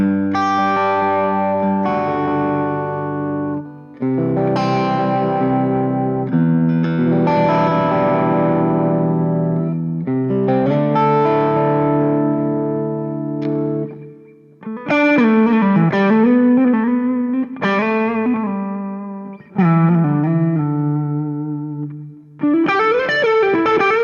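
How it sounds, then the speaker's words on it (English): Electric guitar played through a Mooer Black Truck multi-effects pedal with reverb added, sustained distorted chords and melodic bends ringing out with a reverberant tail, loud and close, no talking. "Now let's add some reverb into that tone as well."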